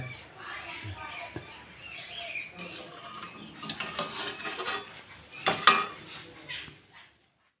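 Palm malpua frying in oil, a faint, uneven sizzle with occasional clatter of a utensil against the pan, building to a louder scrape near the end before falling quiet.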